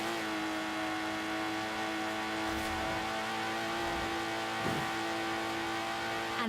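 Lotus Exige engine in the Forza Horizon 4 racing game, a loud sustained high-pitched engine drone with steady harmonics and slight shifts in revs, heard alone.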